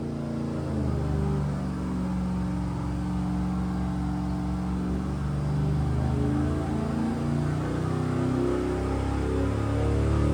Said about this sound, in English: Okay, we made our pulls on the dyno.